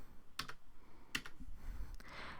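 Computer keyboard typing code in a Google Colab notebook: a few separate key clicks and short bursts, close and fairly quiet, with no talking.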